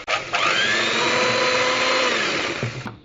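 A mixer whirring steadily as flour is blended into apple pie batter, a loud continuous motor drone holding for about three seconds with no talk.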